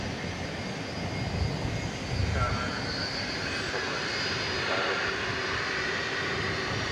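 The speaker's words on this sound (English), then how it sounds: "Take a look at the beautiful stylings of this 757, which just touched down" A Boeing 757 rolls out just after touchdown, with a loud, steady jet roar filling the air at an airport runway at night, and a faint voice underneath.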